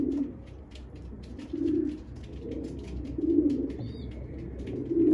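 Soft, low cooing of İzmir posta pigeons repeats in slow, rhythmic phrases at close range, with a few faint chirps and light background rustle in between.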